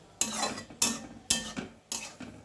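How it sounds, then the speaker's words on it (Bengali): A spoon stirs beans wrapped in coriander leaves in a pan, four distinct scraping strokes at a steady rhythm, close and clear with faint sizzling between them. "সমস্ত জিনিস দিয়ে আমি ভালো করে আবার নাড়াচাড়া করব"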